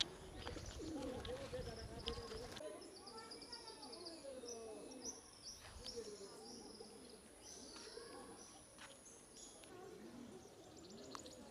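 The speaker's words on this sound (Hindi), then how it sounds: "इस गेट के ऊपर बहुत सारे कबूतर हैं जो बैठे हुए हैं।" Pigeons coo from the entrance gate of Bhangarh fort, soft low calls repeating through steady outdoor ambience, with other small birds and faint voices in the background.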